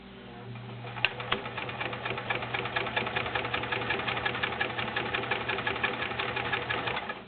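A vintage 1980s Kenmore domestic convertible sewing machine with a size 16 needle stitches through four layers of denim, giving a steady, fast mechanical chatter of needle strokes that runs continuously at moderate level with no talking.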